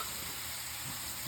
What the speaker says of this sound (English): make sure to move your shrimp around a little bit when you're cooking them